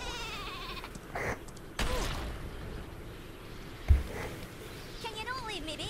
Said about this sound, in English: Oh no, it is a sheep. The sheep is coming for me.